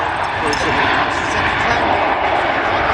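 Airbus A320 airliner at Manchester Airport, its engines roaring steadily through takeoff as a loud, continuous broadband rumble with no break across the whole stretch.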